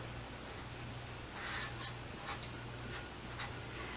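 A pen scratches the word fold onto a paper sewing pattern for a tote bag, in several short, close, quiet strokes over a low steady hum.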